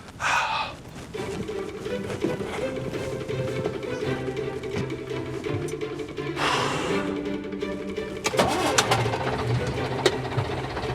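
Engine of a 1953 RT 4779 London bus running while being driven, a steady low mechanical drone with gear and clunk noises over it, heard under intermittent talk.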